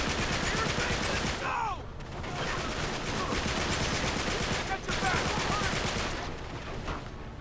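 Rapid bursts of gunfire from the video game Uncharted 3 form a dense, continuous barrage that runs almost unbroken, with voices heard through the shooting.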